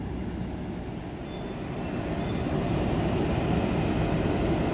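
JR 205 series electric train with batik livery at a station platform, a steady rumbling roar of the rolling train that slowly grows louder, no voices.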